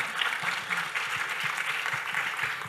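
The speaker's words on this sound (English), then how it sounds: "you want to give him a round of applause, okay?" An audience at a mental health forum applauds together, brisk continuous clapping with faint murmurs of voices underneath.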